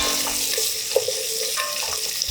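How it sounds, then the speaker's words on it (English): BBQ sauce ingredients sauté in a hot pan with a steady, close sizzle and a few soft stirring knocks, and no voices. "let's get that sautéing"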